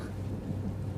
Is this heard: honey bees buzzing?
no